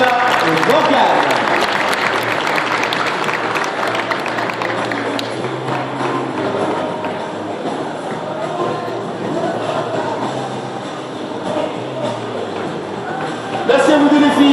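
Crowd applause at a horse show, loud sustained clapping at first, then thinning and fading while an announcer speaks over a loudspeaker, with a brief swell near the end.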